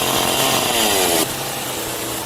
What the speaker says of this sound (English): they are now cutting the blocks of ice using chainsaws and saws to make them into the right size to build with.